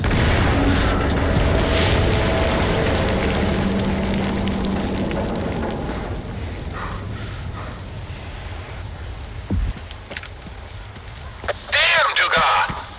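An explosion in the video game S.T.A.L.K.E.R. 2: Heart of Chornobyl: a loud, broad rumbling roar that slowly fades over many seconds, with voices talking over it and a few sharp knocks near the end.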